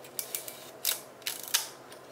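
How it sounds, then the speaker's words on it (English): Clockwork shutter mechanism of a Vivitar V4000S film camera turning, a quiet series of small close-up ticks and ratcheting clicks spaced irregularly, with no talking. "Now this is the clockwork mechanism essentially."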